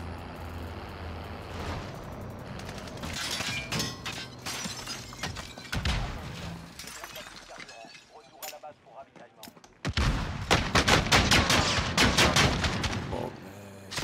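A RAM 7 assault rifle fires in a video game shooter, with scattered shots and clatter early on, then loud, rapid bursts of automatic fire in the final seconds.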